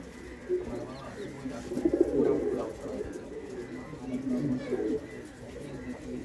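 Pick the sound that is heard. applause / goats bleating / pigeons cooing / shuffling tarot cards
pigeons cooing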